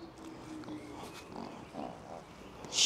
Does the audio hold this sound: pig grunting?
yes